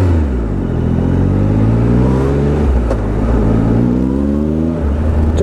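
A 2016 Triumph Tiger Explorer XRT motorcycle engine pulls hard in sport mode, its loud, close exhaust tone climbing in pitch through repeated rising sweeps with a brief dip between gears, and wind rush under it.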